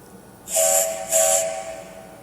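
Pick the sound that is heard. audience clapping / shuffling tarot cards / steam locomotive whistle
steam locomotive whistle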